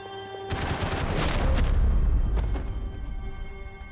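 Heavy gunfire from a Max Payne 3 firefight erupts suddenly, a dense burst of rapid shots and booms that swells loud, then tapers off into scattered reports and echoing decay.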